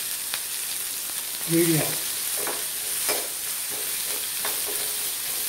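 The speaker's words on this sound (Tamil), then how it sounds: "புளி அனைத்தையும் சேர்த்து வறுத்து கொள்ளலாம்." Tamarind and adamant creeper roasting in a pan with chillies, a soft sizzle under occasional stirring scrapes and light clatter, with a brief spoken word partway through.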